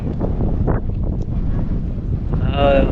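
A cow moos near the end over steady wind buffeting on a windy, sunny river sandbar, the low call rising briefly above the rushing gusts.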